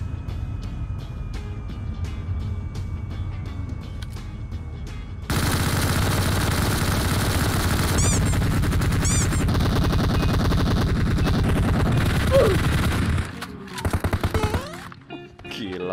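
An overpowered weapon in PUBG Mobile unleashes a long, dense burst of rapid automatic fire that starts abruptly and runs loud and unbroken for several seconds before cutting off, followed by scattered softer shots and game noise.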